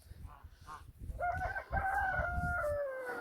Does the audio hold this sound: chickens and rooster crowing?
yes